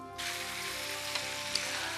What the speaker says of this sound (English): so we got a nice fry daddy on those oxtails, and it's frying good